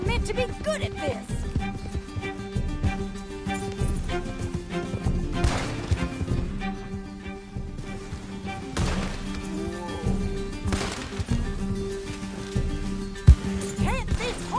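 A horse gallops in the video game Red Dead Redemption 2, with hoofbeats under busy game music and sharp crashing impacts, along with occasional louder hits.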